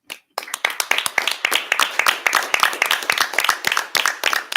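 A round of applause breaks out at a school district board meeting honouring students, many hands clapping in a dense, lively burst that continues steadily after a brief silence.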